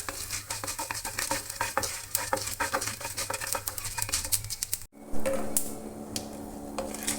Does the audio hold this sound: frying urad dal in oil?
yes